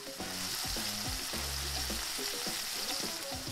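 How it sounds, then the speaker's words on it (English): Bacon frying in a pan gives a continuous dense sizzle and crackle throughout, fairly quiet and close, with low speech-like murmurs underneath. "you just let the bacon do its thing, and slowly but surely, it'll render that bacon off and give you perfectly cooked bites of bacon"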